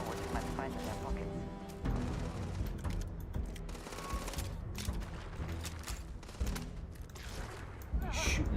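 Bursts of gunfire in the space game Starfield, rapid cracks and clattering shots repeating across a busy, fairly quiet game mix, with voices heard in between.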